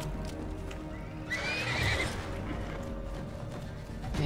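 A horse in the Avatar video game whinnies loudly after being struck, with its hooves clopping underneath, all over a dense steady background of game ambience.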